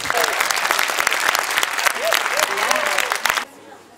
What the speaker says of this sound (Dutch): En dan een andere manier om ze warm te maken is om te klappen.